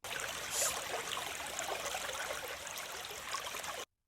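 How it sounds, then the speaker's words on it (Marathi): Water trickles steadily outdoors in a thin, continuous stream, close and fairly loud, running for about four seconds before stopping abruptly. "पाण्याचा आवाज येतोय, जिरा आहे वाटतं."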